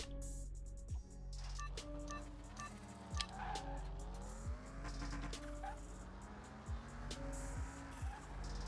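A Ferrari race car engine in Car Mechanic Simulator 2021 revs and climbs through gears, its pitch rising and dropping with shifts and tire squeals, and other engines are heard nearby. The sound is steady and moderately quiet, with no talk.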